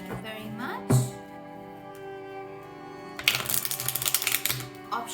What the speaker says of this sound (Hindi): शफल कर लेते हैं कार्ड्स को ऑप्शन 1 के लिए